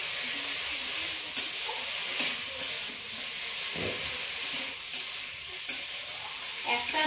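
Masala frying in released oil hisses and sizzles steadily up close, with stirring scrapes and a few sharper bursts as water goes into the pan; no voices.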